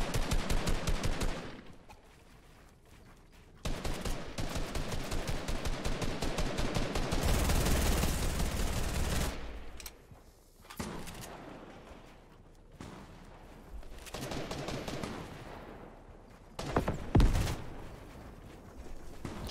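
Rapid automatic gunfire from the video game Fortnite in a Winter Royale match, long sustained bursts of spammed shots with brief pauses between volleys, fairly near.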